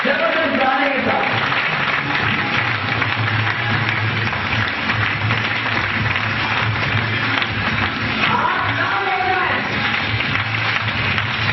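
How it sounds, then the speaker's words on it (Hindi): Loud, sustained applause from a seminar audience at a company's launch event, dense and continuous clapping with crowd noise and music running underneath throughout. "एक बार जोरदार तालियां"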